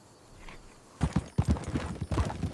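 Cavalry horses shift and stir nearby, hooves clip-clopping in a quick irregular series of close, dull thuds after a second of quiet.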